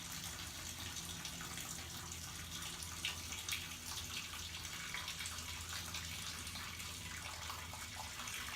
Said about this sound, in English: we're trying to wash all the sugars out of the grains